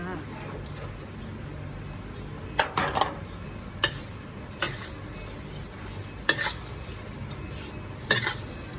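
Shallots tossed into a hot pan for Thai chili paste with crispy pork, a steady low sizzle underneath with several sharp scrapes and clinks of a utensil stirring against the pan.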